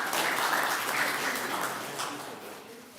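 A steady wash of audience applause welcomes a speaker onto the stage at a literary session, moderately distant and fading slightly toward the end, with no clear talk over it.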